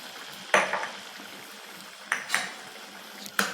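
A spoon scrapes and knocks against the pan three times while suran (elephant foot yam) curry with tamarind water is stirred, each stroke a short clatter over a quiet background.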